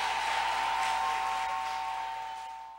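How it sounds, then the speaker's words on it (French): Steady applause at a Miss USB 2016 pageant final for a slam poet, a broad sustained wash of clapping that gradually fades, with a constant tonal hum running beneath it. "Encore une fois, des applaudissements pour Cœur rimé"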